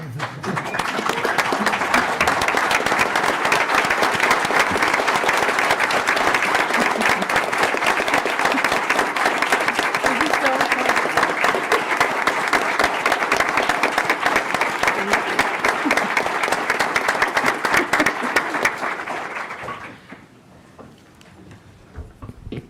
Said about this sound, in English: please, audience, stand up with me and give her a round of applause